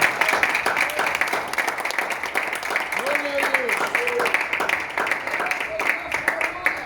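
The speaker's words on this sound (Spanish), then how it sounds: "Denle fuerte soplo de palmas al Señor." Church congregation applauding steadily throughout, a dense wash of clapping with voices and a brief tonal sound, likely singing or a shout, rising over it near the middle.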